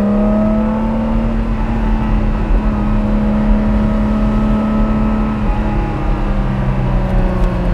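A 1980 BMW M1 sports car driving on the road, its engine giving a steady, loud drone from inside the car with a slight shift partway through.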